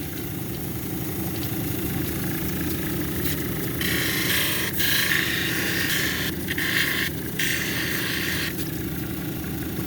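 A lapidary machine grinds a piece of Idaho Sunset Jasper on a 280 grit wheel into a cabochon, a steady motor hum and whirring with brief surges of stone contact scraping throughout.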